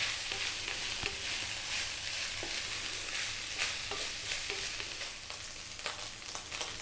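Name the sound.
rice frying and being stirred in a pan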